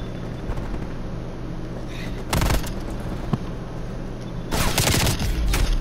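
Gunfire in Call of Duty Black Ops Cold War, two loud bursts of rapid shots breaking through a steady background rumble, close and sharp.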